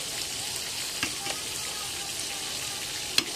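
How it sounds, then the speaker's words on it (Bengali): A steady, soft hiss of okra, spiny gourd, green banana, eggplant and pointed gourd frying in a pan, with occasional small pops and clicks of stirring, no voices. "পাঁচ রকম ভাজা হচ্ছে আমাদের ভেন্ডি কাঁকরোল কাঁচকলা আর এদিকে বেগুন আর পটল এই ভাজা হবে"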